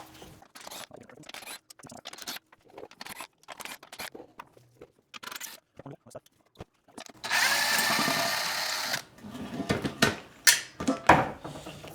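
A power tool removes crash bar bolts on a Camaro RS in short, intermittent bursts. Between them come clanks and handling noises, then one longer sustained whir and a few more quick pulses near the end.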